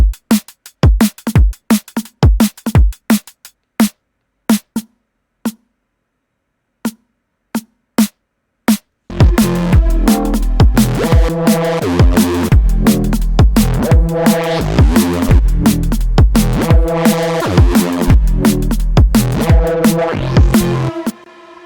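Synthesized drum loop built in Phase Plant: sparse isolated snare and kick hits first, then after a short silence a dense driving loop with ghost snares kicks in loud and steady until the end.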